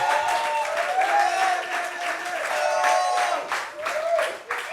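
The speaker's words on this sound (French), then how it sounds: "Applaudissements pour elle." Studio audience applause for a woman guest on a talk show, a full crowd clapping steadily, with a few voices and a tonal murmur of cheering mixed into the clapping.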